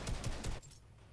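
Bursts of rapid automatic gunfire from a Fortnite match, several quick shots in the first half-second before cutting off into quieter game ambience.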